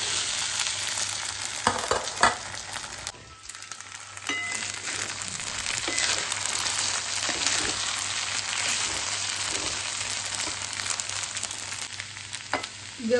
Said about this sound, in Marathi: आता साबुदाणा खिचडी टाकून घेऊया।